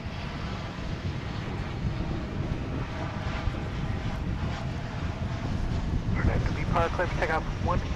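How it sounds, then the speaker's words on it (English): A Spirit Airlines Airbus A320neo arriving at Dallas/Fort Worth Airport, a continuous roaring jet engine rumble heard at a distance with wind, with brief chirping tones near the end. "This is Spirit Flight 208 arriving from Las Vegas, an Airbus A320neo."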